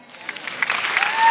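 Brief applause from a comedy show audience for a stand-up comedian, clapping swelling quickly and close, with a faint whistle near the end.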